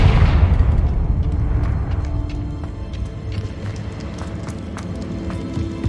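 In the Hogwarts Legacy video game, a Confringo blasting spell sets off a loud, close boom that opens the moment, then fades into a rumbling roar with scattered crackles and small debris ticks.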